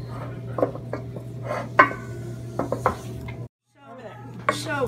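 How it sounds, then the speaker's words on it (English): Spoon clinking and scraping against a pot while melting butter and sugar are stirred for zebra popcorn, irregular close knocks that cut out briefly near the end. "Now we stir it."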